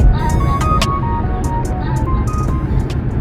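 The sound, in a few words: traffic going past a supermarket car park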